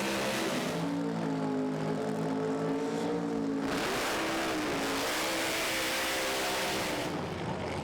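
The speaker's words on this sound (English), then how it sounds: "Andreas Arthurson with the twin turbo car. Beautiful machine" Twin-turbo drag racing car at Santa Pod Raceway during the FIA/FIM Main Event 2019, a loud sustained engine roar with rising pitch as it accelerates, a brief shift and surge midway, then continued full-throttle blare.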